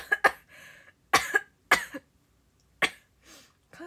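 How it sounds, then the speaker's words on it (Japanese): A woman on a livestream coughs from hay fever, several sharp close coughs in short bursts separated by pauses, with a faint breath or throat sound between them. "花粉症咳も出るんだ。"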